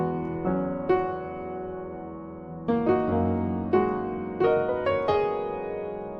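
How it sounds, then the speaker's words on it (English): Vintage Upright stock piano from Logic, a few slow chords and single notes struck with warm ringing sustain and gentle decay, played alone with no voices. "I am going to be using this stock piano sound inside Logic called Vintage Upright."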